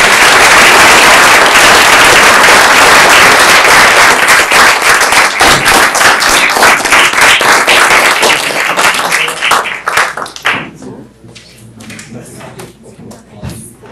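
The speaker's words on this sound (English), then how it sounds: "please join me in giving a round of applause to our guests" Loud audience applause at a panel event on human rights fills the room with dense clapping for several seconds, then thins into scattered claps and fades toward the end.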